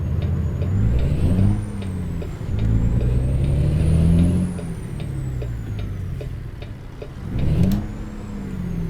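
A truck engine in American Truck Simulator revs in the wrong gear, its pitch climbing and falling in several loud strained surges with misshifts, plus a high whine and faint clicks, and no talking.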